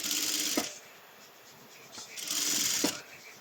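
A sewing machine runs in two short bursts, a close whirring stitch along the round neckline of a maxi dress, with a quiet pause between the runs.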